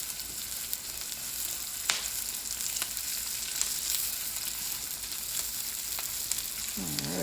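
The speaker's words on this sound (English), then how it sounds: "we're just going to let that stir fry up probably for 2 minutes" Fried rice with shrimp and Chinese sausage sizzles in a hot pan, a loud continuous hiss of frying with occasional sharp pops and scrapes from stirring.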